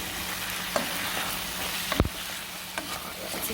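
Salmon being stirred with coconut milk in a pot, a steady close sizzle with a few scraping knocks of the utensil, no talking.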